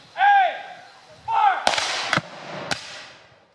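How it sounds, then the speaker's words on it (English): Musket volleys from Civil War reenactment skirmishers exchanging fire outdoors at a pioneer village, several sharp distant cracks in an irregular spacing, following two loud whooshing tones, with no talk. "So we do have skirmishers exchanging fire out there."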